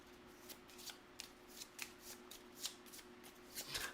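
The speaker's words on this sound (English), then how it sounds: "Shuffle." Cards for the Etherfields board game are shuffled by hand in a quick run of riffles and snaps, close and fairly quiet, with no talking.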